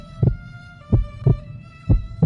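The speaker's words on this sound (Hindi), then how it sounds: "पिता का हृदय तेज धड़कने लगा।" A fast heartbeat sound effect thumps in close, loud paired beats, four strong pulses in just over two seconds over a faint steady tonal hum, with no speech.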